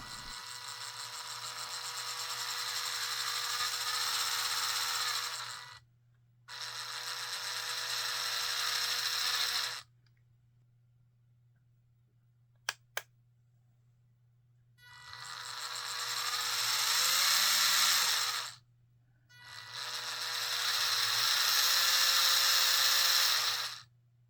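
A WPL 370 brushed motor fitted in an MN82 RC car chassis whirs with a steady high-pitched electric whine in four bursts of a few seconds each, separated by gaps and a couple of sharp clicks, with no talk.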